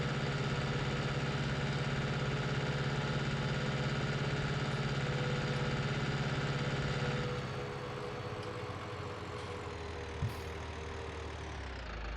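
A tractor carrying a heavy load of liquid runs in Farming Simulator 19, holding a steady loud drone with a low hum that drops to a quieter idle partway through, with no talking.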